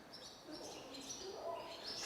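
Small birds chirp and tweet in short, bright calls in a Busan alley, faint and somewhat distant, with light background hum.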